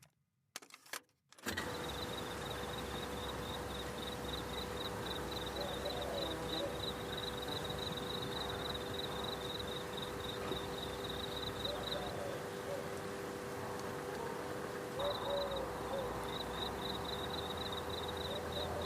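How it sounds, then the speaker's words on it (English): Crickets chirp in a played nighttime recording, a steady pulsing trill that runs, stops abruptly, then resumes together after a short gap, over a low constant hum. "Crickets."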